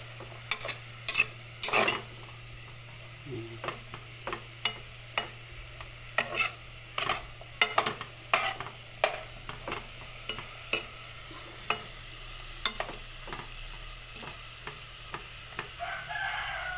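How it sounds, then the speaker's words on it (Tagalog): Mung bean stew is being sautéed in pork fat: sharp, irregular scraping and clatter of a spoon in the pan over a low hiss of frying, with a rooster crowing faintly in the distance. "mas maganda kasi pag ginigisa na lang natin dito, tas yung mantika na lang ng baboy yung gagamitin natin na pang gisa dito sa munggo."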